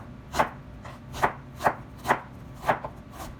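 Knife chopping sweet potato or vegetables on a cutting board for vegan fajitas, with five or six crisp, evenly spaced chops close by in a quiet kitchen.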